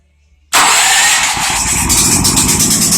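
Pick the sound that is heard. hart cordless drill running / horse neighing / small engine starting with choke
small engine starting with choke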